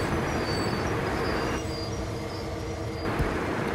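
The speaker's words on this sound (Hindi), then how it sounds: "लोकोमोटिव वाला ब्रेक अप्लाई, पीछे कोचेस के भी ब्रेक अप्लाई कर दिया हमने।" A locomotive's brakes and the brakes on the coaches behind it are applied as a mixed freight train in a train simulator game comes to a stop, with a steady loud rumble and a hissing air release partway through.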